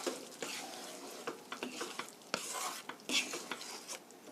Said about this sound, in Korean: 고루 섞어주세요.